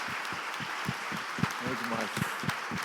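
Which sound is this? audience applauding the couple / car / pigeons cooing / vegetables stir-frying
audience applauding the couple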